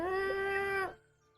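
A person's voice imitates a cat with one drawn-out, tonal meow lasting under a second, clear and close, then fading into quiet.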